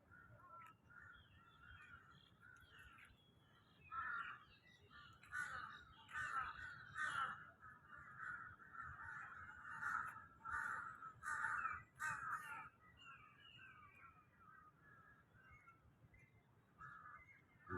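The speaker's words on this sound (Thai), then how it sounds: "มีเสียงการ้องด้วยนะคะเพื่อนๆ" Several crows caw repeatedly from nearby in Lumpini Park, their harsh calls overlapping in bursts with a soft outdoor background hum.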